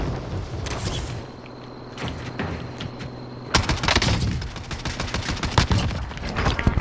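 Rapid rifle fire from an Oden in a Call of Duty-style shooter, loud bursts of several shots in quick succession with a sharp second volley after a brief lull.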